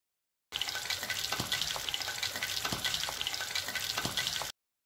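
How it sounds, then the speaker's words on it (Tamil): Oil sizzles and crackles steadily as chicken drumsticks fry in a pan over medium flame, with occasional light pops and no talking. "சிக்கனை பொரிக்கும் போது அடுப்பு மீடியம் ஃப்ளேமில் இருக்கட்டும்"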